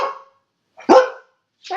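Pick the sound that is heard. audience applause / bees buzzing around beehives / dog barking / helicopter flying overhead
dog barking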